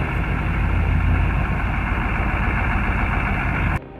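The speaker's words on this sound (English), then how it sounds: "The Iveco 6x6 grinds through knee-deep mud, each axle clawing for grip while the load shifts behind." An Iveco 6x6 truck's engine churns in knee-deep mud, a loud, steady, low rumbling drone that holds for several seconds before cutting off abruptly near the end.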